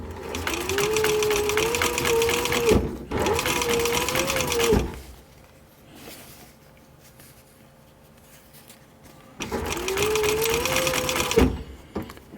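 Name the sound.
sewing machine stitching a military patrol cap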